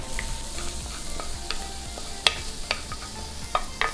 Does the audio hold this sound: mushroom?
yes